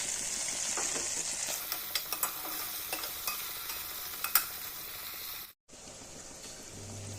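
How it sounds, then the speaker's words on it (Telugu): Okra frying in oil in a pan, a steady close sizzle broken by light tapping stirs, then a brief drop to near silence before a quieter frying hiss resumes. "తరువాత 4-5 స్పూన్లు ఆయిల్ వేసి మరో 2 నిమిషాలు వేయించుకుందాం."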